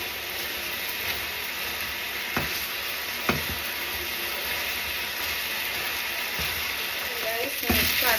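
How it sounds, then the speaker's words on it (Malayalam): Pork adobo cooks uncovered in a pan, rendering its fat with a continuous close hiss and crackle, punctuated by a few sharp taps of a utensil and a brief burst of spluttering near the end. "നമ്മുടെ പോർക്ക് ഇനി തുറന്ന് വെച്ച് കുറച്ച് നേരം കുക്ക് ചെയ്യാം. ഇതിൻ്റെ എണ്ണ ഇറങ്ങണം."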